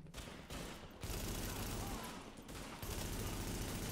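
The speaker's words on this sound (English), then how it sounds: "Oh, I'm getting shot. Oh, who's shooting me?" Gunfire in The Division video game: dense, loud bursts of automatic shots and rattling fusillade packed into a few seconds, with brief gaps between bursts.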